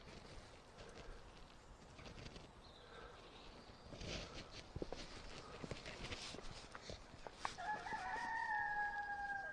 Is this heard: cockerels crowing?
yes